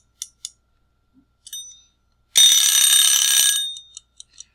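A ladybug kitchen timer hitting zero lets out one loud, sustained metallic ring of just over a second, with a few faint ticks and clicks before it and small taps after.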